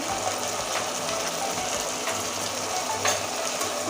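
Turmeric and ground spices fry in oil with water in the pan, a close, continuous hiss and crackle broken by light scraping of a spoon against the pan.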